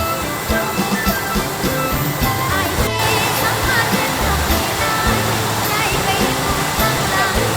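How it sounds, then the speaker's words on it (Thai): Tad Yeuang waterfall in southern Laos pours in a steady, loud, broadband roar that fills the whole stretch without letup, close and continuous. "คือน้ำตกกัดเยือง"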